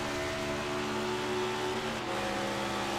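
A race car at Nashville Superspeedway holds a steady engine drone with a gear shift partway through, the tone stepping down as the shift happens.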